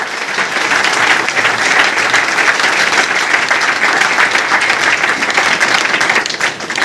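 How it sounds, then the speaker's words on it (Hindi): Loud, sustained applause from an audience at a village meeting program in Basti, a dense steady wash of many hands clapping with no talk over it, easing slightly at the very end. "एक जबरदस्त ताली होना चाहिए"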